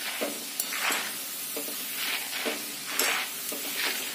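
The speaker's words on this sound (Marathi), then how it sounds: "त्याच्यानंतर आपण कढीपत्ता सुद्धा तळून घेणार आहे." Curry leaves frying in hot oil for a crispy maize flake chiwda, hissing bursts of sizzle that swell and fade in quick repeated pulses, close by with some stirring.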